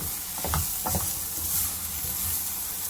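Carrot and onion frying in a covered pan for an uttappam topping, with a steady close sizzle and a few soft scraping stirs near the start.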